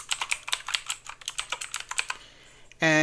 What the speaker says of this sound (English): I typed in LocalSend here. I'll just pretend like I'm going to put it in again.